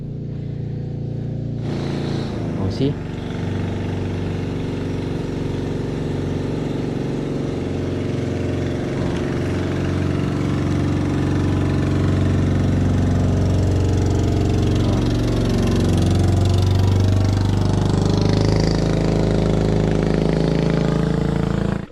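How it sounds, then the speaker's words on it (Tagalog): A boat's engine hums steadily on a deep river, building to a loud, continuous drone that swells gradually as the craft draws nearer. "may paparating na bangka."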